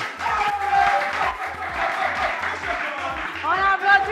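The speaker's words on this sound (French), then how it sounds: "On applaudit, s'il vous plaît." Audience applause at a quiz show finale, a broad wash of clapping and crowd noise under a steady low thumping beat, with an announcer's voice running over it throughout.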